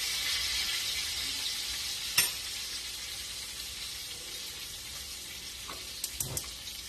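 Brussels sprouts and bacon sizzle steadily in a pan over a gas flame, a constant bright hiss with a sharp clack near the middle and a few small knocks toward the end.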